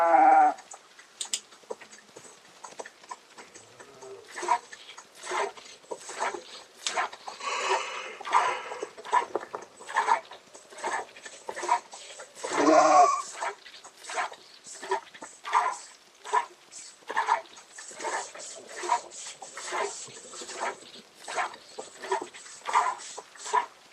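A sheep in the zombie survival game Project Zomboid, sitting in the rain, bleats over and over in short wavering calls, fairly close and repeating at an uneven pace.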